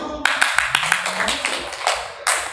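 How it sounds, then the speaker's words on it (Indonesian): Clapping at a ceremony announcing newly chosen council officers, a brief burst of applause with rapid claps mixed with a speaking voice and crowd noise, fairly close and loud. "Tepuk tangan. Virtual tepuk tangan dulu."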